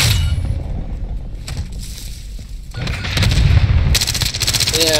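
Rapid automatic gunfire and booming shots in a multiplayer shooter video game, loud and sustained through the whole stretch, with bursts intensifying toward the end.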